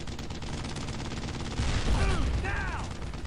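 Gunfire in Brothers in Arms: Road to Hill 30 during a fight with tank armor: a dense, continuous rattle of shots that swells louder midway, with whistling or ricocheting sweeps layered over the barrage.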